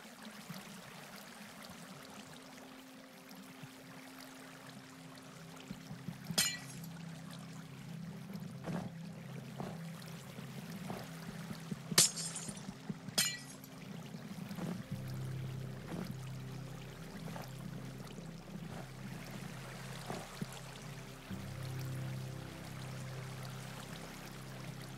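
Icy water flows with a soft, steady trickling wash in a Minecraft hardcore world, faint and continuous, broken by a few brief clicks and block sounds.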